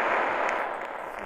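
Bombs go off in a Roblox video game, a dense continuous roar of explosion noise that stays loud and steady for about a second before easing slightly.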